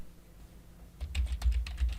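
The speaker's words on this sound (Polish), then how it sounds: "wpisuję tutaj hasło składające się minimum z 8 znaków i klikam dalej" Rapid typing of a password on a computer keyboard during a web domain setup, a quick run of close, crisp key clicks that begins after a second of quiet and continues steadily to the end.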